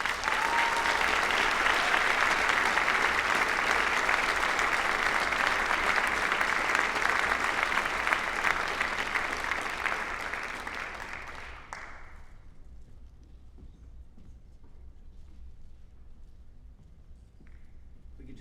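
Sustained round of applause from an audience at a high school senior awards ceremony honoring senior athletes, loud and dense for about ten seconds, then thinning and fading to scattered claps and room quiet.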